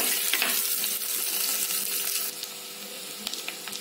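Turmeric and chili powder sizzle in hot oil in a pan while a Kerala-style moru kachiyathu is cooked without coconut, giving a steady, close, crackling hiss that runs the whole time with no voices.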